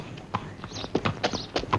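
Horse hooves clip-clopping on hard ground in an old Bollywood film scene, a quick uneven run of sharp knocks, close and clear, with a faint voice in the background.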